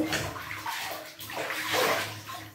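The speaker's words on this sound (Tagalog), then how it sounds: "Nakaka-relax ang hot water dito sa bathtub." Hot water pouring and sloshing into a bathtub in Tokyo, Japan, a continuous close rushing splash that swells and dips without any speech.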